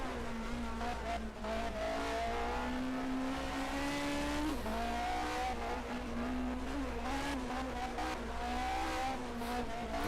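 Racing cars from the 1980 DRM Division 2 round at the Eifelrennen roar steadily past, engines droning and shifting pitch through gear changes, a dense continuous wall of motorsport noise with no talk.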